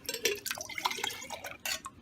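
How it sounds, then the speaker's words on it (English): Yogurt culture poured into a row of jars, faint close trickles and small splashes broken by soft glassy clinks, quiet and irregular, with no talking. "you'll see as you pour it that you'll get some in every jar"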